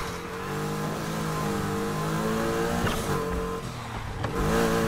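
Street racing in Need for Speed Heat, with a car engine revving and accelerating hard, the pitch climbing and shifting through gears, loud and close, with no speech.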